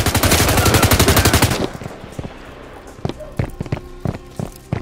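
Rapid automatic gunfire in the tactical shooter game Firewall Zero Hour, a loud sustained burst for over a second, then scattered single shots and footsteps farther off, with faint voices in the background.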